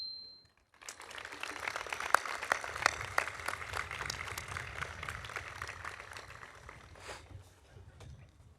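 A large audience applauds at a college commencement ceremony, steady broadband clapping that starts abruptly and holds for several seconds before tapering, heard from within a big hall.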